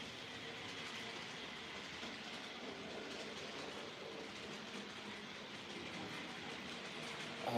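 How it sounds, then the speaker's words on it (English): A model railway layout hums with trains rolling along the track, a steady close rumble with clickety-clack rail joints and a brief louder bump right at the end, no voices. "Let's run some trains and stick a camera on."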